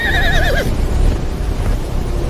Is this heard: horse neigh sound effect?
yes